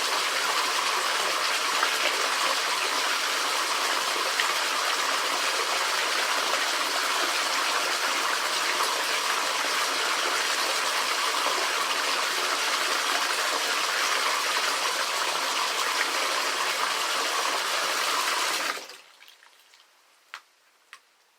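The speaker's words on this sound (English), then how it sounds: "Speak through the sound of the water." Water gushes loudly and continuously for about nineteen seconds, then cuts off abruptly, leaving near silence with a few faint clicks.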